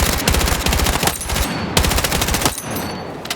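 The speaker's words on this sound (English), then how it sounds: "And I'm going to tap fire here." Rifle tap-fired in Battlefield 6, loud close bursts of rapid shots in short rhythmic groups with brief gaps between, the crisp reports dominating throughout.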